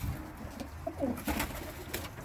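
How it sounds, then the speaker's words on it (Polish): A pigeon coos softly in a loft, a few low murmuring calls amid faint background rustle. "Już tutaj przychodzi sobie gruchać"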